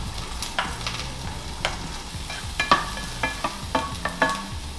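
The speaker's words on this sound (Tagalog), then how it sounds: "Isosote lang natin siya sa onion at garlic." Garlic and onion sauté in a pan with a steady low sizzle, broken by intermittent scraping and clinking stirs that grow more frequent toward the end, close and fairly quiet.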